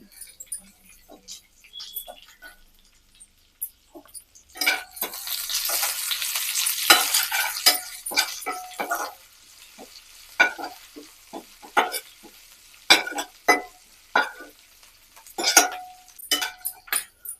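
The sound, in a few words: garlic and ginger sautéing in pan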